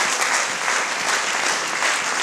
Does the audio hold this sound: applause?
yes